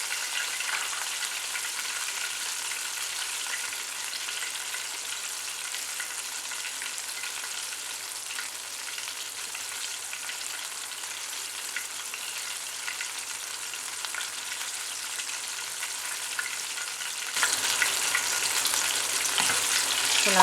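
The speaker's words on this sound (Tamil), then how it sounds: "இந்த சைடும் வந்து ஒரு 1 minute ஃப்ரை பண்ணிடுறேன்" Chicken coated in Hapima crispy fry mix fries in oil with a dense, steady hiss and crackle, close and constant, growing slightly louder near the end, no one talking.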